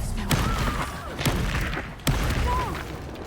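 Incendio fire spell blasts in a Harry Potter video game: loud booming bursts with sharp thumps repeating every second or so, layered over a dense rumbling game soundscape with faint tonal whooshes.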